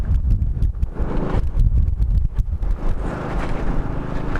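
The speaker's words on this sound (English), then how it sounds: "But it is windy, very windy." Strong wind buffets the microphone during a windstorm in Gage, with loud, continuous gusting roar that rises and falls in surges, close and unbroken.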